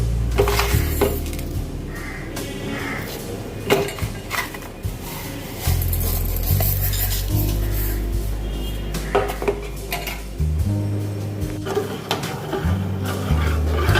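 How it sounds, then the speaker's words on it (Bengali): A spoon clinks and scrapes repeatedly against a metal pot while sugar is stirred into milk for pudding, loud, close and irregular, with no talk. "এই দেখুন চিনি মেশাচ্ছি।"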